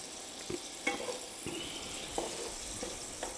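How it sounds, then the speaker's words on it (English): Garlic cloves and ginger sizzle in a hot pan under a steady frying hiss, with a few sharp scrape-and-stir clicks from a utensil spaced through it; no talk. "I'm going to add my ginger."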